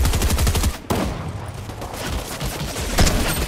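Rapid automatic gunfire from Fortnite Battle Royale, dense and continuous bursts with loud crackling shots across the whole stretch, a brief dip near the start before the firing resumes.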